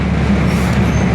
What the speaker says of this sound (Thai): ที่ท่านชมอยู่นี้คือสะพานมรณะ ในเส้นทางรถไฟสายมรณะกาญจนบุรี